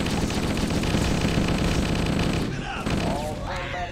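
Dense, continuous weapon fire from a plasma pistol in a modded Halo game, loud and unbroken for several seconds before thinning out into scattered electronic zaps near the end.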